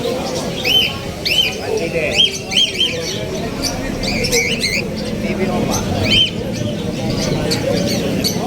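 Caged birds at the Grotto Pet Market in Bulacan give repeated short chirps and squawks, some near and some farther off, over a busy background of people talking.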